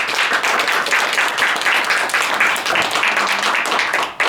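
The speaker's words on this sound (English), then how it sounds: "a big round of applause" An audience at a university peace and justice summit gives a round of applause, dense and steady clapping that fills the room. It continues without a break for several seconds and cuts off at the end.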